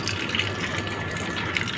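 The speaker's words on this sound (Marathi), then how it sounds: "आता बघा मी इथं पाच रुपये टाकतो टाकला ठेवलं खाली आता बघा पाणी येईल" A five-rupee coin-operated village water machine in Jalgaon pours water into a metal pot. A close, steady gushing stream fills the pot without pause, and no voices are heard.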